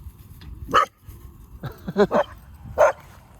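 A few short, high-pitched dog barks and yips at irregular intervals, close by, with quiet moments between them.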